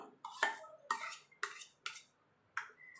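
Mango pulp being stirred into rice in a pot, heard as a spoon clinking and scraping against the pot in about six separate sharp strokes with quiet gaps between them.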